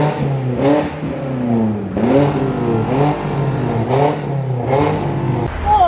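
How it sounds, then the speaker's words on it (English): A car engine revs repeatedly in short bursts, each rev climbing sharply in pitch and dropping back, about six loud, close vroom pulses in quick succession with no speech. "We're having a rev battle"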